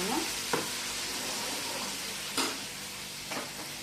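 Cumin seeds sizzling in hot oil, a continuous bright frying hiss with a few sharper crackles and pops scattered through, close and steady.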